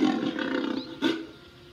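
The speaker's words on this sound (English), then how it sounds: "That's a lion roaring." A lion roars in a single long, loud rumbling call with a broad low-pitched growl, then a second short burst of roar follows after a brief dip.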